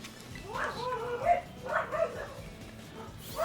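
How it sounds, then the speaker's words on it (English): A pet dog barks a few times at middle distance, short yips and bow-wows spaced across a few seconds over a quiet indoor background, with a hint of whimpering between barks. "ignore my dog, sorry. I don't know what she's barking at."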